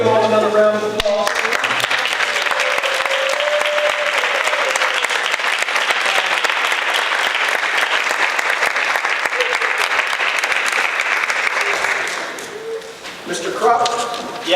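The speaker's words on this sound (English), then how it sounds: "Can we give them all another round of applause?" A naturalization ceremony audience gives sustained, dense applause for the new citizens, loud and steady for about twelve seconds before tapering off, with voices audible at the start and end.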